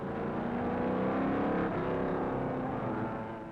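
A 1957 Maserati race car at Sebring rounds a corner, and its engine drones steadily and loud for several seconds before easing off slightly at the end. No one speaks.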